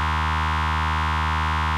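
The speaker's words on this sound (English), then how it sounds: "Good old lightning bolts is generating the sound you're hearing from this patch" A Make Noise Maths Eurorack module patch produces a continuous, buzzy tone rich in harmonics, holding perfectly steady and loud throughout with no variation or pauses.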